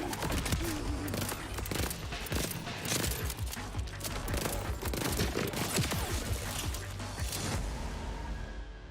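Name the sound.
co-op gun firing in video game Borderlands 4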